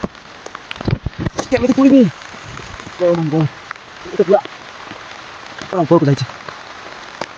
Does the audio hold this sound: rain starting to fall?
yes